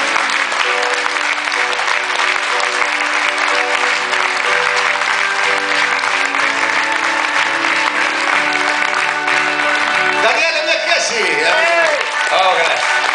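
Concert audience applauding, a loud, sustained wall of clapping with some cheering throughout, while a voice speaks over it near the end.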